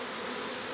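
A swarm of bees buzzes in a steady, dense drone, the first swarm of the season, continuous and fairly close throughout with no voices.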